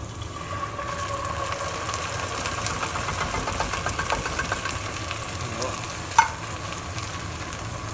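Canned tomato sauce poured over softened, browned vegetables frying in a pot for catfish courtbouillon, a loud continuous sizzle with stirring scrapes and one sharp clink near the end.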